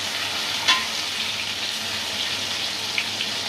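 Food fries in a pan with a steady, moderately faint sizzling hiss, broken by a couple of small ticks; no one speaks.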